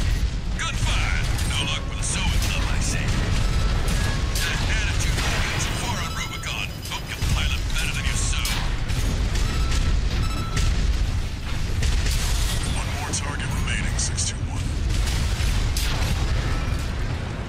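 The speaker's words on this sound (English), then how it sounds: "Gunfire!" Gunfire and blasts from the mech combat game Armored Core 6: Fires of Rubicon, a dense continuous barrage of clanking mechanical shots and booming explosions layered over game music, with voices talking throughout.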